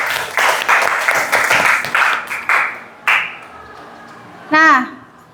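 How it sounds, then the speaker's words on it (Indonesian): Bursts of applause and clapping from a class at a school lesson fill the first few seconds, then fade as a voice speaks near the end. "Mari kita beri tepuk tangan untuk Bintang."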